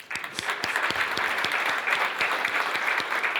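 Audience applause at a corporate breakfast: a steady wash of many hands clapping at once, sustained and even in loudness throughout, with no voices rising above it.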